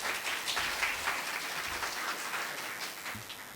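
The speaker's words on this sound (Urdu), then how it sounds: "آپ کی بھرپور تالیوں میں" An audience at a ceremony marking International White Cane Safety Day applauds to welcome the chief guest, an assistant commissioner; broadband clapping fills the room steadily and fairly faintly, with no voices over it.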